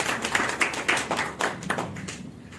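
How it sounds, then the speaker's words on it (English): A small meeting audience claps for a few seconds, a loose patter of hand claps that thins out and fades toward the end. "Let's clap for him."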